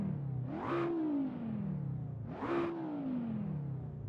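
A car engine in the racing game Assetto Corsa revs up twice in clear rising-then-falling sweeps, moderately loud with a smooth tonal whine and no voices.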